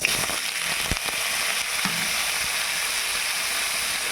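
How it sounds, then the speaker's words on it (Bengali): Paneer sizzles and crackles steadily in hot oil in a kadai, a loud continuous frying hiss with a few sharper pops near the start and no voices over it. "পনিরটা ভেজে নিয়েছি।"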